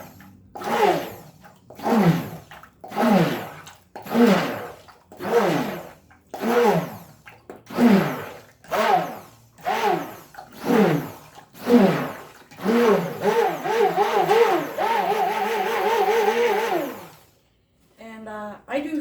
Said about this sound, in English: The stick blender pulls down and it's pulling air into it, and you see all these air bubbles here